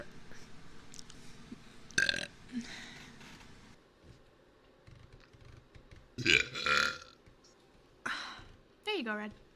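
Several abrupt, throaty burps sound close and fairly loud, one pair following quickly like a double burp, with light voice sounds and handling noise around them.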